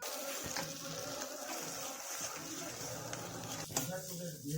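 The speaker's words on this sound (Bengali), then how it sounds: "কড়াইতে পরিমাণ মতো তেল দিয়েছি এই আলুর চোখাটা ভাজার জন্য" Mashed potato filling for potato chops frying in oil in a wok, a steady broad sizzle with occasional stirring scrapes running throughout at moderate loudness.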